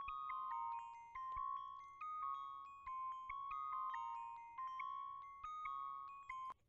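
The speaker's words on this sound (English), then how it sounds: "like a mix between a piano and a bell sound at an Analog Lab 2." A melodic phrase from an Analog Lab 2 synth patch blending piano and bell tones, with bright, bell-like plucked notes in a steady rhythm and a light reverb tail. It is played alone and sounds soft and clean.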